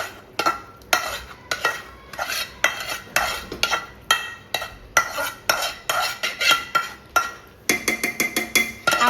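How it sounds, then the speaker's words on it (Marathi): Homemade black masala is stirred into cooked chicken with a metal spoon, giving repeated rhythmic clinks and scrapes against the pan, steady at first and then quicker toward the end. "हा मसाला आता आपण चिकनमध्ये टाकायचा आहे"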